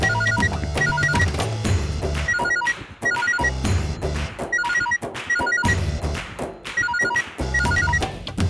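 A telephone rings in a home scene from a Tamil TV serial, repeated electronic ringing bursts in a steady rhythm over music, fairly loud and close, with no talk.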